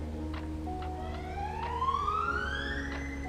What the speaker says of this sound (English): during the time of recording there's some ambulance at the back